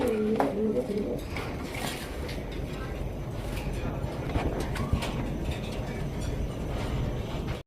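Pigeons coo in low, throaty bursts, clearest at the start, over a murmur of voices and general background noise.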